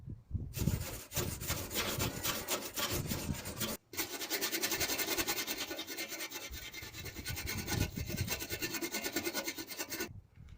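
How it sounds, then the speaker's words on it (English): Stiff brush scrubbing rusty van bodywork during a rust repair, a loud continuous rasping scrape with a brief pause near four seconds, then steady back-and-forth strokes to the end. "What we're going to have to do now is give it a good clean with brush."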